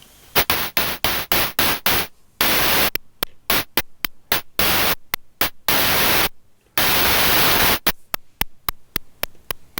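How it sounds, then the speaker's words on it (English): Gated white-noise cymbal hits from a Befaco Percall Eurorack module, a rapid series of loud, bright noise bursts whose decay lengths change from short clicks to long sustained washes, alone without talk. "change the length of the white noise cymbal sound like this."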